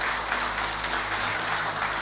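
A church congregation applauds as people rise to their feet, a steady wash of clapping over a low background hum, continuous and moderately loud.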